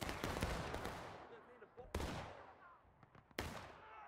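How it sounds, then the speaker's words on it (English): Machine gun fire in a Civil War–era battle in War of Rights: sharp bursts and single loud cracks ring out with trailing echoes, some shots near and punchy, others more distant rattling. "Look at that machine gun just tearing through these guys."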